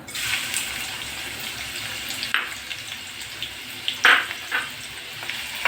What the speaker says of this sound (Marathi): तो कांदा आपण भाजूया थोडासा मऊ होईपर्यंत भाजायचा आहे